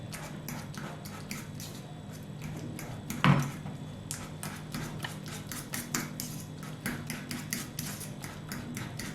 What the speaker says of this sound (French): vous le mélangez bien, vous l'écrasez